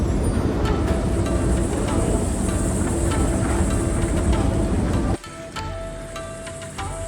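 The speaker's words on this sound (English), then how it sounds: "Subway train going back to my hotel." A subway train in the Yerevan underground metro roars with a loud, steady rumble and rattle from up close, then the noise drops abruptly near the end and a lighter hum carries on.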